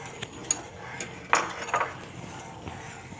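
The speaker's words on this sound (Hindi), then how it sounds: "अब इसको इसमें ऐसे आहिस्ता आहिस्ता करके इसमें चम्मच चलाते जाएंगे, और इसमें हम सूप में मिक्स करते रहेंगे।" A metal spoon stirs a cornflour mixture into a pot of chicken corn soup, giving a few light clinks and scrapes against the pot, with one sharper knock partway through, fairly close in a quiet kitchen.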